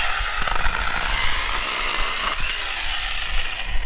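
A Beihong mini chainsaw cuts through a piece of wood about an inch thick, giving a steady, loud buzzing and rasping drone that holds through the whole stretch, with no talking over it.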